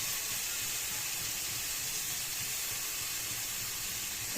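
Onions and garlic sauté in a hot pan, a steady broad sizzling hiss holding evenly throughout with no talk.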